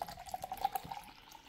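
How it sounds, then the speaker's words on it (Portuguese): Half a litre of household bleach poured into a measuring jug, a thin continuous trickle of liquid with a faint steady pitch, close and fairly quiet. "eu vou estar tá adicionando aqui, pessoal, meio litro de água sanitária"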